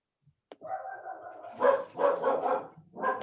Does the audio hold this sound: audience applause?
no